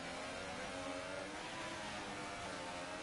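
Formula Racing Series race car engine at a round in Spain, a steady high-revving whine held at constant pitch, moderately loud and distant-sounding, with no voices.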